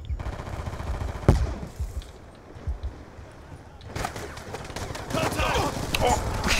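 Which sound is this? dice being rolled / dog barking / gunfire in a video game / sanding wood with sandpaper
gunfire in a video game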